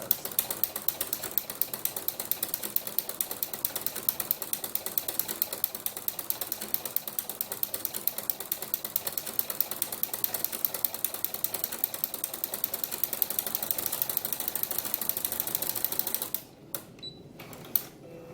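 Sewing machine fitted with a ruffler foot attachment pleating fabric for doll clothes, a fast, steady mechanical clatter of needle and ratcheting pleater stitching continuously up close, then stopping abruptly near the end with a few quieter clicks.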